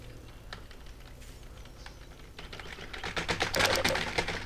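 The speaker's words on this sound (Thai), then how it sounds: "กดคีย์บอร์ดอย่างบ้าคลั่ง" Frantic computer keyboard typing during a Garry's Mod game session, sparse clacks early that build into a dense, loud burst of rapid keystrokes near the end, with no talking.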